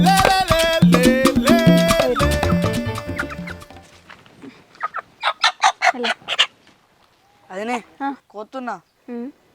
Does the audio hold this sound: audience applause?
no